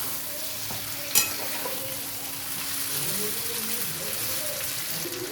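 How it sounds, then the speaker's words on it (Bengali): Pieces of lemon chicken, just sprinkled with a little sugar, fry in a pan under a steady close sizzle. An early sharp clink of the spatula is followed by soft scraping as the meat is turned. "চিকেনটা আবারও ভালোভাবে একটু নেড়ে নিচ্ছি।"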